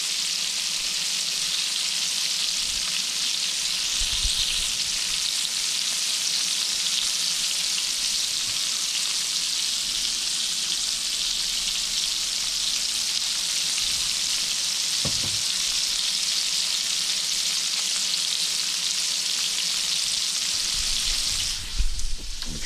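Deer tenderloin fries in a cast iron skillet with a steady, dense sizzle of hot grease that holds evenly throughout, broken by a few faint knocks and clicks.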